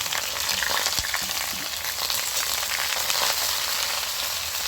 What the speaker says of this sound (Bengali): এবার আমি কেটে রাখা ভেন্ডিগুলো দিয়ে দিচ্ছি।